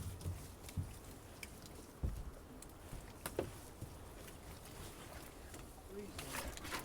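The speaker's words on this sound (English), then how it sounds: "Wind's picked up a bit, innit?" Wind gusting outdoors on the open water beside a small fishing boat out for spring herring drift gill netting, a steady broadband rush with some louder bumps, under occasional speech.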